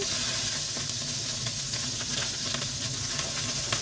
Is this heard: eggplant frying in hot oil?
yes